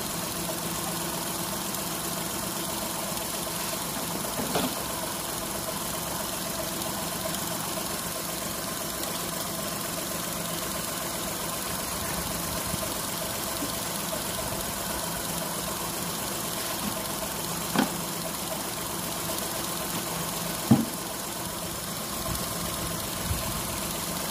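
A Daewoo Matiz (Spark) car engine idles steadily during a coolant change, a continuous mid-pitched hum with faint knocking and a few small clicks, heard alone at moderate distance.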